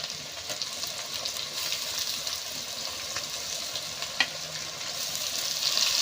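Onions frying in a pan with cumin, garlic and fenugreek seeds, giving a steady close sizzle with occasional stirring scrapes and no talking.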